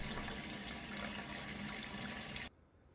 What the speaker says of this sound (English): Let the cold water tap run for 5 minutes to activate the filter.